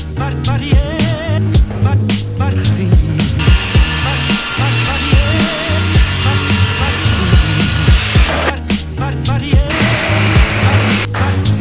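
A circular saw cuts through a board in a small workshop. Loud whining bursts alternate with a sustained cutting roar of several seconds, with thumps and handling clatter between the passes.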